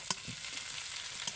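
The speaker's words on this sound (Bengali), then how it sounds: "আমি কিন্তু আবারও একটু নেড়ে নেড়ে ভেজে নেব সবজির সাথে ভালো করে" Vegetables stir-fried in a kadai give a steady, soft sizzle, broken by a few sharp scraping clicks from the stirring utensil. No voices are heard.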